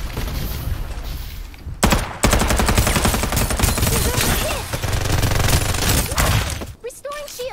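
Rapid Uzi submachine gun bursts in the Farlight 84 battle royale game, loud and close, with a brief gap then sustained fire over game effects.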